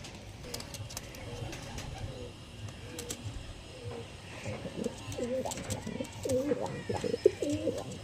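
Pigeons coo in repeated rolling phrases that grow louder and more frequent toward the end, close by, with faint voices and chirps in the background.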